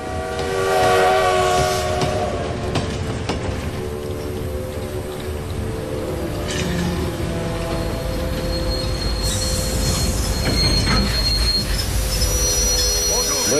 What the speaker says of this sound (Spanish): Rigaud, tras varios días recorriendo las vías bombardeadas del ferrocarril, llega a su destino